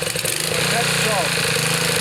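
Little Wonder edger powered by a Honda GX-120 engine runs steadily at a close idle, a continuous mid-pitched small-engine drone with faint warbling.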